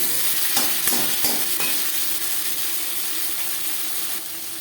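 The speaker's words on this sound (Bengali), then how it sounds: "পাঁচফোড়ন ভেজে নেওয়ার পর দিয়ে দেবো পেঁয়াজ কুচি টুকরো করে কেটে রাখা টমেটো" Chopped onion and tomato go into a pan of hot oil with fried panch phoron spices for a fish curry, giving a steady loud sizzle with a few clattering stirs near the start.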